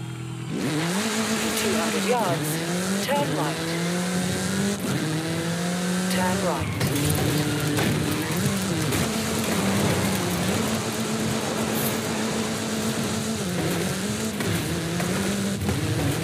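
A car in Forza Horizon 5 races hard with a loud, rising engine that climbs through several gear changes, shrieking revs and some tire squeal, continuous and close throughout.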